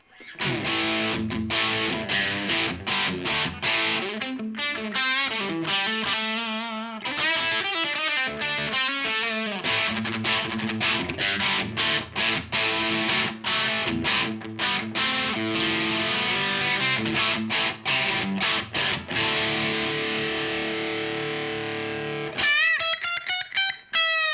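An electric guitar with a humbucker pickup plays through a King of Tone overdrive pedal, giving a continuous stretch of driven, sustained chords and picked notes with brief gaps, ending in a quick run.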